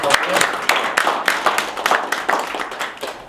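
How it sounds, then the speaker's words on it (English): Audience applause for a speaker at a business lunch-and-learn event: dense, crackling clapping from a roomful of people, steady and fairly close, with a voice talking over it. "Let's have a round of applause for"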